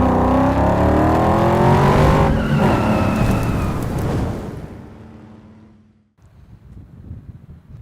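A 1965 Cobra V8 with a Coyote engine accelerates hard and loud, its rising roar climbing through gears with wind buffeting, then fading away into distant quiet.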